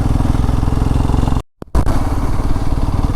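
A motorcycle rides into Bandipur forest with a steady, loud close-up engine drone. The sound cuts out briefly mid-ride and then resumes.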